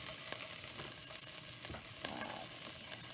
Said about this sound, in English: And now I'm going to add some of my onions, because I want them to brown up a little bit.